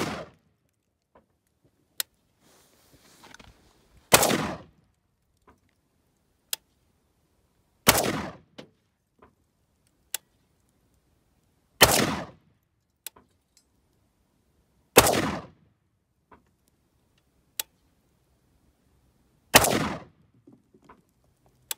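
Single shots from an AK-74 rifle fired outdoors, six loud sharp cracks spaced a few seconds apart with short echoing tails and quiet gaps between them.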